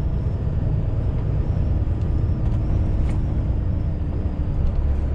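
A Volvo FH460 truck running on cruise control while climbing a grade, shifting down a gear to hold momentum: a loud, steady diesel drone with road rumble fills the cab, with faint clicks and no talking.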